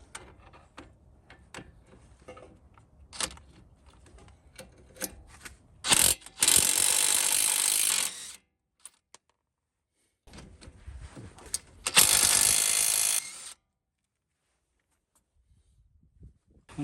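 A hand ratchet working the strut bolts loose on a Honda CR-V's front suspension, giving quick runs of metallic clicks, then two loud sustained rasping bursts with silent gaps between them, close by with no talking.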